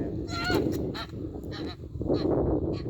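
An Embden goose honks repeatedly at close range near an electric fence, loud nasal calls coming in quick uneven bursts over a low outdoor rumble.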